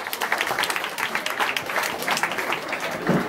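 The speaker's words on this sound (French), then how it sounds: "on peut les applaudir d'une main bien forte" An audience applauds at a stage hypnosis show, a dense patter of many hands clapping together at a steady level throughout, moderately close.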